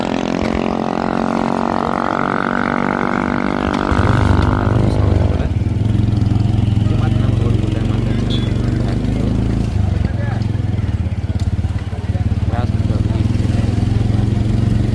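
A motorcycle engine drones steadily up close, its pitch shifting as it changes speed, with wind and road noise throughout.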